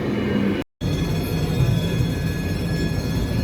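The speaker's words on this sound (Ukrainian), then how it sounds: "Вже мій трамвай, восьмерочка наша." Tram number eight arriving at a city stop, a steady rumbling rail drone with faint high wheel tones, broken by a brief cut-out early on, with no voices.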